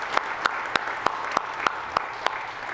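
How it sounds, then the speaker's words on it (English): A crowd at a graduation celebration applauds in a steady wash of clapping, with one nearby pair of hands striking sharp, evenly spaced claps about three times a second over the diffuse background. "a round of applause here for the entire"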